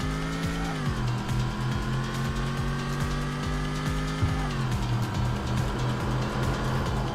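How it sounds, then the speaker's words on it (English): Car engine exhaust in the racing video game Tokyo Xtreme Racer 3, a loud, continuous droning rasp whose pitch drops and steadies between gear shifts, with no talking. "it was a huge culture shock to listen to the newly reformed exhaust, and it sounds nothing like a V6."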